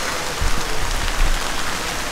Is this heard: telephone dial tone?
no